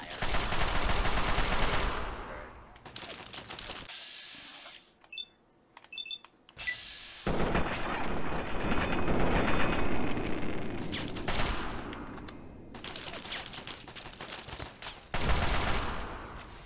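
Automated turret gunfire in Fallout 3 rattles in dense, loud bursts, breaks off around four seconds with a few sharp electronic beeps, then returns in sustained volleys to the end.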